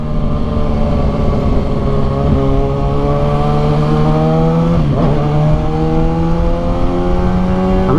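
A motorcycle fitted with a Yoshimura exhaust muffler runs loud and close, its engine note droning steadily with slight rises and falls throughout.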